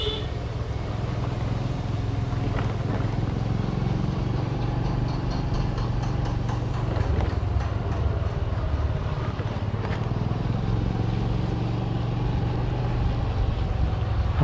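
Motorcycle ridden by a lone rider along a near-empty main road through a town under lockdown, a low steady engine rumble with passing traffic noise, continuous and close, no talking.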